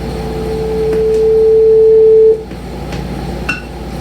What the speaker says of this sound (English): Now listen to the crescendo as I rapidly increase the amplitude.